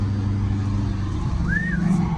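A Ford F350 pickup with a 6.4 diesel and manual gearbox pulls up close by, its steady low engine rumble loud and continuous, with a brief rising whine partway through.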